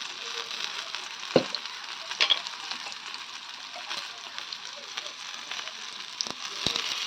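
Food with chilli roasts crisp in oil in a pan, giving a soft steady sizzle with occasional sharp pops and utensil clicks throughout, with no voices.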